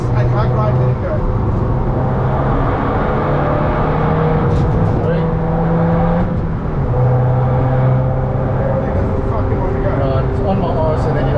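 A car accelerates hard around the Nurburgring race track, engine revving loudly and rising in pitch from inside the cockpit while someone talks over it.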